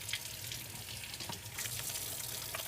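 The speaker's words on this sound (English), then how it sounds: "Let me wash my hands real quick." Tap water runs steadily into a kitchen sink while hands are washed before cooking in a home kitchen, a continuous close splashing hiss with no talk over it.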